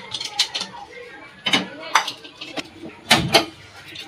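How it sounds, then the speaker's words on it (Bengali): A metal lid is set onto a pan on a gas stove, giving several light clinks and clattering knocks of metal on metal, brief and close, with a voice talking between them. "এই যে আমি ঢাকনা দিয়ে দিচ্ছি।"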